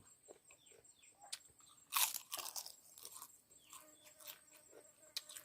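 Close, quiet crunching and chewing of a spicy green papaya salad with snails, with irregular crisp bites, the loudest burst early on, followed by softer chewing.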